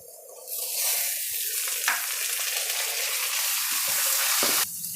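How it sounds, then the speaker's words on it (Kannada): Onion and tomato fry in oil, a loud, dense sizzle that surges in after a quiet start and holds steady, broken by a few soft stirring scrapes before cutting back at the end. "ಈರುಳ್ಳಿ ಇಷ್ಟನ್ನು ಚೆನ್ನಾಗಿ ಫ್ರೈ ಮಾಡ್ಕೊಳ್ಬೇಕು ಎಲ್ಲನೂ ಫ್ರೈ ಆಗಿದೆ ಟೊಮೆಟೊ ಸೇರಿಸ್ಕೊಳ್ತಾ ಇದ್ದೀನಿ"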